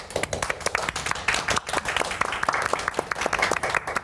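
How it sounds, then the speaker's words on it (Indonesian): Audience applause in a studio, a steady patter of many hands clapping close by, fairly even in intensity throughout. "Pengennya tepuk tangannya banyak."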